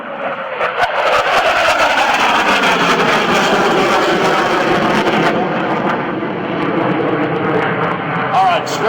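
F/A-18C Hornet jet roaring loudly and steadily through a double Immelmann maneuver in Microsoft Flight Simulator X, with someone talking over the continuous engine noise throughout.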